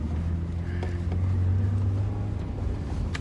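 A 2006 Toyota Tacoma with a manual transmission pulls away in first gear, its engine a steady low drone with road and cabin noise around it.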